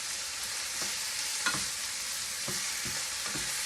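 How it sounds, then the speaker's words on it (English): Ground beef browning in a home kitchen pan, a steady sizzle and fry with repeated scraping stirs of a utensil against the pan, close and alone. "just brown the beef"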